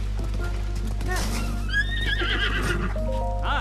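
A horse in Zelda Breath of the Wild neighs loudly in a long, wavering whinny. Hoof clip-clops and faint game ambience run underneath, over a steady low hum.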